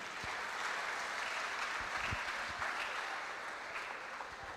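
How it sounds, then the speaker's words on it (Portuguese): A church congregation applauding together, a dense, even wash of clapping that holds steady for several seconds at moderate distance, with no voices standing out. "Dá um aplauso para Jesus."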